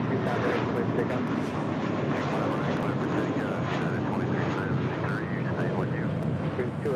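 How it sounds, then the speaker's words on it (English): A Spirit Airlines Airbus A320neo from Chicago O'Hare lands at LAX with a continuous broad engine roar that stays level and fairly strong throughout, with faint higher hiss and flutter riding on top. "Spirit Airlines Flight 2805 coming in from Chicago O'Hare in this A320 Neo."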